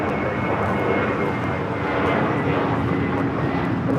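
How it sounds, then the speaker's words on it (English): Spirit Airlines Airbus A321 roaring on its takeoff run at Los Angeles International Airport, a loud, steady broadband engine rumble that holds without letup, no voices. "Airlines 609 taking off to Houston Intercontinental on the A321."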